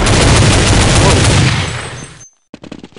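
Rapid automatic gunfire in Counter-Strike on a snowy map, a dense loud burst of shots that fades out, then after a short silence a few quick, closer cracks.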